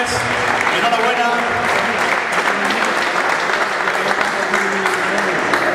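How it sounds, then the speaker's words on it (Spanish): A crowd at a stair-climbing race trophy ceremony at Gran Hotel Bali gives dense, steady applause for the winners, the clapping loud and continuous throughout. "un fuerte aplauso para ellas, para Judith, para Silvia y para Ángeles"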